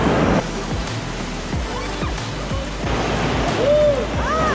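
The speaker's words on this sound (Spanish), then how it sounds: "Muy fuerte la corriente." Steady rushing water roars loudly and continuously, the strong current of the underground El Chonta river churning, with occasional whistling tones riding over it.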